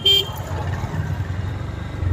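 A motorbike engine idles with a low steady rumble at a busy fair, with a brief horn toot at the start and traffic noise around; moderately close, and a voice speaks over it.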